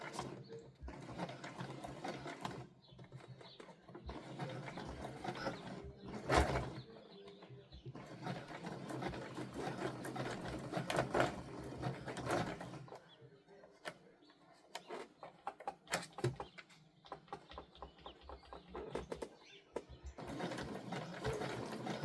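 A sewing machine stitches rope, its needle mechanism clattering in a fast, steady ratchet-like rhythm that runs in several stretches with short pauses, close up, with occasional quiet talk.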